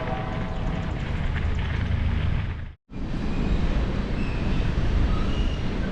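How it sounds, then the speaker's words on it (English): A long, slow freight train rolls past close to a bike trail near Meyersdale on the Great Allegheny Passage, giving a loud, steady rumble and wheel roar that drops out for a moment midway, then resumes just as strongly. "I've been following this train for like the last 3 or 4 miles out of Meyersdale. It's moving really slow and it's really long."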